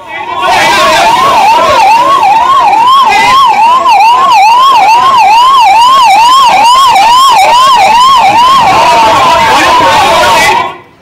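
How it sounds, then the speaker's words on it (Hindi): Ambulance sirens wail loud and close at a hospital fire as the building is evacuated, a steady rising-and-falling yelp repeating rapidly for about ten seconds before cutting off. "मौके पर एम्बुलेंस एक के बाद एक पहुंची है"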